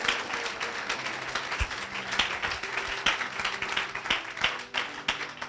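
A church congregation at a Christian gathering claps and cheers together, a steady wash of applause with scattered sharp claps and faint voices throughout, fairly even in loudness from start to end.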